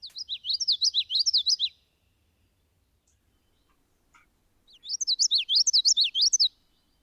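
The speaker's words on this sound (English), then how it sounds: "This is common yellow throat." A common yellowthroat warbler sings two clear bouts of its rolling, repeated witchity phrase, bright and close, separated by a few seconds of quiet.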